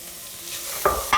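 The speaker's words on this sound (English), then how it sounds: "I'm now going to add in my shredded cabbage." Shredded cabbage is dropped onto glistening onions in a hot pan and tossed, giving a soft sizzle and then two quick scraping, rustling stirs close by.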